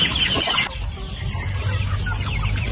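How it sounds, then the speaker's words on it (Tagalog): Native egg-laying chickens cluck and chatter close by at feeding time, several birds overlapping in short busy calls with some scratching and movement around them. "Sa ating mga alagang manok na nangingitlog"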